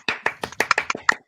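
A small group of people clap briefly, a sparse burst of about eight separate handclaps in quick succession, close and dry in an indoor room.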